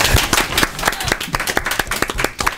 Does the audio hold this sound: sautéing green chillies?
no